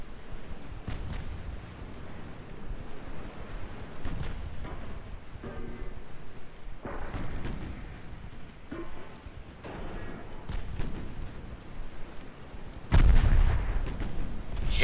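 Naval guns fire during a battle in the Ultimate Admiral Dreadnoughts warship game, a string of dull booming reports spread across the clip, with the heaviest blast near the end.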